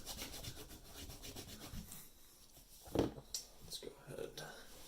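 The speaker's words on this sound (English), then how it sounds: "you simply put some of this in there, and then you rub it off pretty vigorously" Cloth vigorously rubbing Saphir Rénovatrice cream into scratched leather, a soft, close, repeated scrubbing and swishing with faint handling bumps, quiet and intimate.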